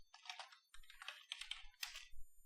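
Keys tapping out Python code on a computer keyboard, a steady run of close, crisp clicks in quick irregular bursts with brief pauses, no voices.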